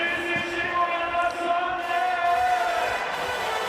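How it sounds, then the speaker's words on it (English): Spectators at a beach volleyball match in Vienna, Austria vs Italy, cheer in a steady, dense wash of crowd noise with whistles or horns sounding over it for several seconds. "Listen to this crowd."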